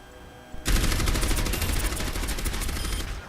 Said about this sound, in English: so it's basically a minigun